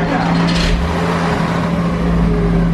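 A Porsche Boxster flat-six runs loud and close, a steady rumbling idle with a brief rev at the start, over a constant low engine drone.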